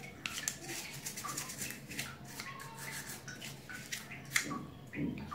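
Aquarium canister filter parts and caps being rinsed and scrubbed by hand, giving close rubbing and scraping strokes with light drips and water splashes in an irregular rhythm.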